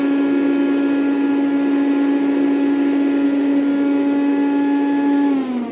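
A Rainbow vacuum cleaner fitted with a power nozzle runs loudly nearby, a steady high motor whine with a strong droning hum that holds constant, then starts to wind down at the end.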